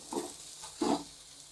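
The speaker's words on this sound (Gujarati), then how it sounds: "હવે આપણે આને બરાબર મિક્સ કરી દઈએ।" Mashed potato masala being stirred together with lemon juice in a bowl, two short soft scraping bursts close by with a quiet pause between, no talking.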